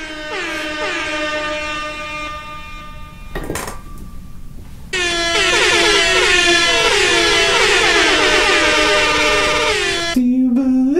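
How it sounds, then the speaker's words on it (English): Sampled air horn blasts fire in quick succession, loud brassy honks stacking on one another, then a denser, louder burst of repeated horns that continues to the end, with no talking. "we want to kick the show off right with a 21 air horn sample salute."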